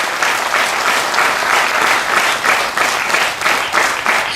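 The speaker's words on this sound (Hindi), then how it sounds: "तालियां बजाएंगे।" A seated audience at a spiritual talk in Hindi claps loudly and continuously, the applause swelling in regular pulses with no break.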